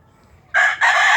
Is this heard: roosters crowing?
yes